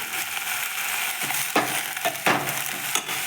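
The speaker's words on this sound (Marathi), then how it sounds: "आता टाकूयात कांद्याची पात छान तेला कांद्याच्या पातीला तेलामध्ये छान घेऊयात परतून" Spring onion greens sautéing in hot oil after mustard seeds have crackled, a steady close sizzle with several scraping stirs of a spatula through the pan.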